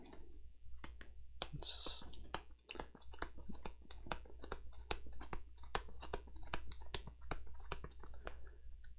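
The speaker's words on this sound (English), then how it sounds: "We do have to shuffle the AI deck because there's only there were 2 cards left." Cards from a Kingdom Death Monster board game AI deck are shuffled by hand, producing quiet crisp clicks and riffling snaps in an irregular run, close and soft, with faint speech alongside.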